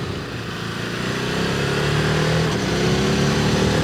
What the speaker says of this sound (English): It is good having something torquey like a V-twin, so that when you do ask for the power, it comes almost immediately